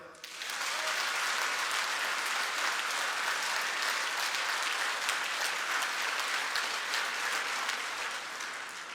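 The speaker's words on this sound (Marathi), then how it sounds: "जोरदार टाळी वाजवा" A large crowd at a political election rally applauds loudly, starting abruptly and holding as dense, sustained clapping for several seconds before easing slightly at the end.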